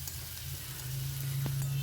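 Chopped onions fry in a pan for a fish-head and bottle-gourd ghonto, a steady close sizzle with a low hum underneath and a faint knock toward the end; no talking.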